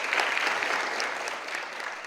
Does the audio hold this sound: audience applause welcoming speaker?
yes